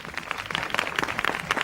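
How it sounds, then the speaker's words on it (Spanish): A studio audience on the Spanish TV show Aplauso claps to welcome the five judges, a dense, steady patter of many hands at moderate volume with no voices. "Vamos a recibir a los 5 jurados con un fuerte aplauso"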